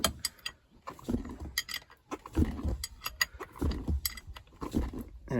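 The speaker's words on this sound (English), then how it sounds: "the bolt is being pulled right through the shifter, and the bolt is tapered" A tapered bolt being pulled through the Hurst shifter of a 1989 Ford F150, close, irregular metallic grinding and clicking bursts that repeat in short uneven pulses.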